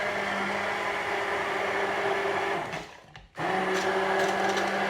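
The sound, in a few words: hand blender blending raspberry ice lolly mixture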